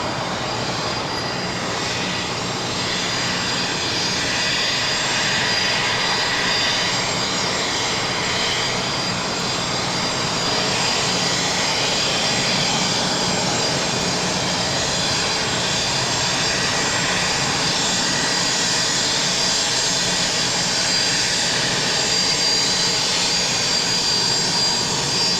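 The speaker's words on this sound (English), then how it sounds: "Gulfstream landed on the north side from Van Nuys." A Gulfstream business jet landing on the north side at Los Angeles International Airport, arriving from Van Nuys, gives a steady, broadband engine roar that holds at an even level throughout, fairly distant and with no voices.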